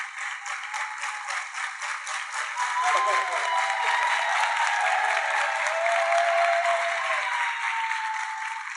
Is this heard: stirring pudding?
no